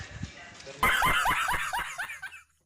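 A dog on a farm near a tractor gives a rapid series of sharp, close barks and yips in an outdoor setting, preceded by faint background noise.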